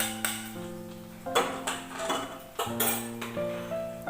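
A spoon scrapes and clinks in a pot of beetroot pachadi as tempered chillies are stirred in, giving repeated close, sharp metallic taps and ringing knocks in an uneven rhythm with brief scraping between them.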